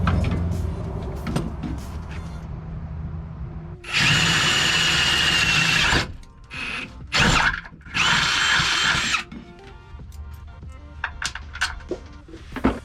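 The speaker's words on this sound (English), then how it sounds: "I drilled a 1/2 inch hole." Power drill boring a 1/2 inch hole through a metal bracket for a Sprinter van roof rack, in loud sustained bursts of a few seconds each with short pauses and scattered handling clatter between them.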